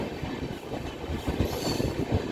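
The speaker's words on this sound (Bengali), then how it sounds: "চলছে ট্রেন ঐতিহ্যবাহী দার্জিলিং মেল হলদিবাড়ি আন্তর্জাতিক রেলওয়ে স্টেশনে প্রবেশ করে গেল" The Darjeeling Mail rolls into Haldibari International railway station, a steady low rumble of wheels and carriages with rhythmic clatter that stays loud and close throughout, no voices.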